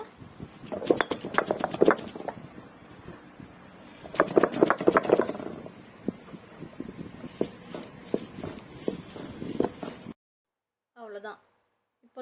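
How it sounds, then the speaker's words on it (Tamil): Thoothuvalai leaves being pounded and ground on an ammi grinding stone: bursts of sharp, rapid thudding strikes, close and fairly loud, come in two clusters with quieter taps between, under a speaking voice, before a brief near-silence at the end. "இலையை நல்லா தட்டிட்டு இன்னும் பதமாக அரைச்சிக்கலாங்க"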